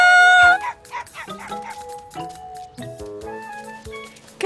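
Cartoon spotted puppy barking and yipping in short, bright bursts with a little whimpering, close and lively, mixed with playful background music.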